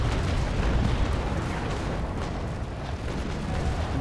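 Broadside cannon fire from the Essex sailing warship in the naval combat game Naval Action, a dense continuous roar of overlapping booms and rumble filling the whole stretch, loud and close.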